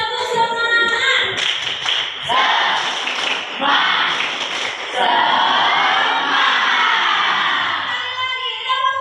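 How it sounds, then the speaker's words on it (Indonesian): A group, apparently teachers or students in a classroom session, performs a rhythmic clapping chant, with bursts of patterned claps and shouted voices alternating and overlapping, loud and close throughout. "Jadi tepuk semangat."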